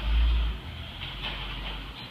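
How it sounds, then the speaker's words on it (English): Construction work near a garden rumbles as a steady low drone with a heavy boom at the start, distant and continuous, with no talking. "They're doing some construction in the area."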